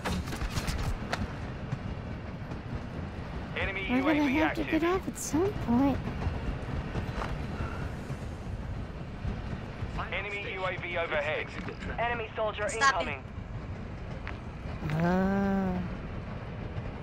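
Steady low rumble and rolling clatter of a train moving in a shooter video game, heard continuously under game voice callouts and a player talking.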